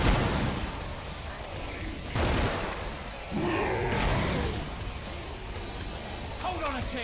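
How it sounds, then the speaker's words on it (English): Fireballs launched in the zombie shooter Killing Floor, several whooshing blasts and booming impacts at irregular intervals, loud in the foreground with someone talking over them. "I'm shooting fireballs at it."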